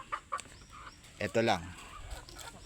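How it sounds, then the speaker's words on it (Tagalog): Young pullet hens cluck in short, close bursts, sometimes under a man's speech, with a louder throaty cackle in the middle before quieter clucks resume. "ayan yung pulet ko, mga pulet"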